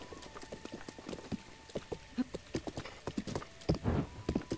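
Horse hooves clip-clopping at a steady walking rhythm in the video game Breath of the Wild, a close, clear series of sharp hoof strikes over quiet outdoor game ambience, with an occasional snort.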